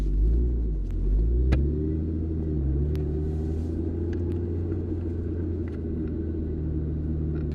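A 1999 Nissan Skyline GT-R R34 V-Spec pulling away, its engine a steady low rumble with a brief rise in revs near the start, then a constant drone of driving with faint road noise.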